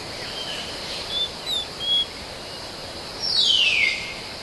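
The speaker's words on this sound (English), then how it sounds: "on this morning, the jungle pulses with the sounds of insects and birds." Morning jungle ambience with a steady high insect drone, a few short bird chirps and one longer descending bird call, moderately quiet and without voices.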